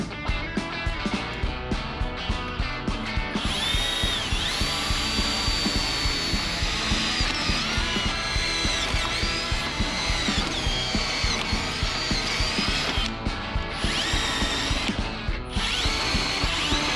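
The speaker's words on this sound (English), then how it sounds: "poke all of the gas expansion holes in the tube so I can weld them together" A power drill bores gas expansion holes in 4130 chromoly tubing for a race car chassis, a loud, close, continuous whine with repeated rhythmic bursts and shifting tonal squeal throughout.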